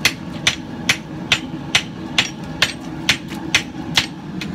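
Hammer blows upsetting the end of a steel ball peen hammer held in a vise, being forged into a tomahawk: about a dozen sharp, ringing metallic strikes in a steady rhythm, close and loud, no talking.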